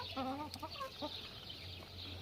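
Chickens and roosters cluck in a coop, a few close, distinct clucks early, then quieter calls over a steady low hum.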